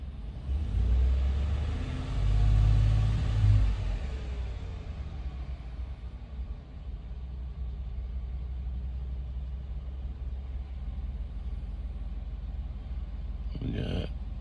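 Ford Coyote 5.0 V8 with misfires, idling then briefly revved with a blip of throttle early on, a deep close rumble that swells and settles back to a steady idle, with a short clatter near the end.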